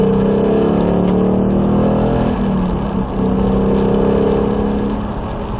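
A race car engine accelerating on a track, a loud close in-car roar rising steadily in pitch under throttle, with a brief dip as the gear shifts, continuous and with no voices.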